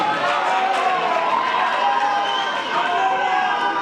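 An audience at the Miss and Mr Bright pageant at INES Ruhengeri, Rwanda, cheers in a dense, continuous crowd roar that holds steady throughout, with mixed voices inside it.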